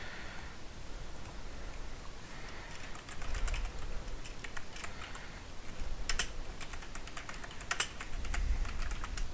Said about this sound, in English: So to restart the network, gonna type in this